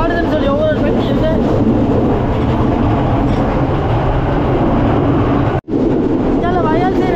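A train runs through an elephant forest with loud, continuous rumbling and rattling of the carriages close by, a brief dropout near the end, and voices talking over the noise.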